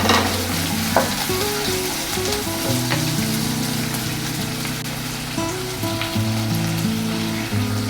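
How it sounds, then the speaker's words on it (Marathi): Garlic, ginger and coconut sauté in hot oil in a pan for misal, a steady loud sizzle and frying crackle with occasional stirring scrapes, and no voices. "त्यानंतर आपण यात लसूण, अद्रक आणि खोबरं टाकणार आहोत। हे आपण परतून घेऊया।"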